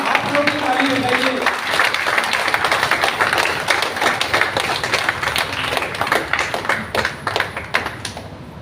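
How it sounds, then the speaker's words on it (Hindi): An audience claps at a Women's Day event, a dense, fast patter of many hands that keeps going steadily and thins toward the end, with a voice heard briefly at the start. "आप लोग की ताली बजाइए"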